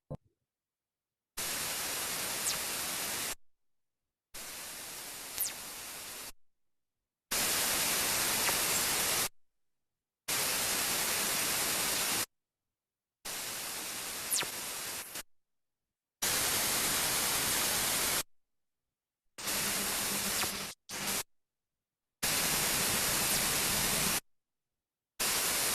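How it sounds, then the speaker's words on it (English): Sonified radio telescope data, heard as nine separate segments of hissing static split by silent gaps, some carrying a faint streaking burst of radio emission through the noise. "if you listen closely, you'd hear that streak going through the data set. That's the burst of radio emission"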